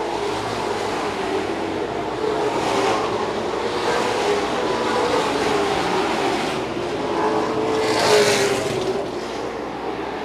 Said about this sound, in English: As he continually tries to reel in the number 8 car, he's got Jacob Gady right on his back bumper